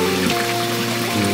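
Night rain at a rural fishing spot below a village, a steady patter and trickle that continues throughout without talk.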